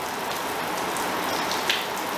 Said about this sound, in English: Let's try to spray in the middle.